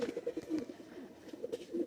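A pair of Oman 128 pigeons coo softly in a low, repeated burbling pattern, faint and close, with no other sound over it.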